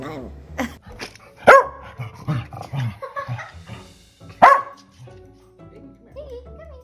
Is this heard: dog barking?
yes